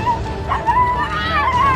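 A rescued dog whimpers and yips in a steady, close run of thin whining cries, with background voices and noise underneath.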